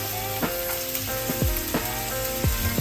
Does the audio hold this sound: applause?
no